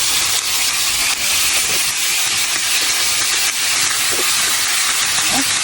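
Chicken wings frying in a pan for Filipino adobo, a loud, steady hiss and sizzle that runs the whole time with a few faint clinks and a quiet voice underneath.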